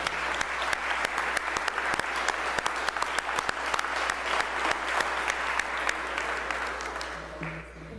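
Sustained applause fills a state House floor chamber honoring a Class 2A state championship high school team, many hands clapping steadily with sharp individual claps standing out, tapering off near the end.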